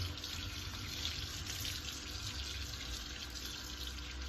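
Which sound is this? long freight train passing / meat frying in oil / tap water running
tap water running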